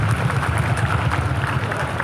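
A church congregation at Gereja Tiberias claps together in a dense, loud, steady patter that sounds close and continuous, with a low murmur underneath and no clear words.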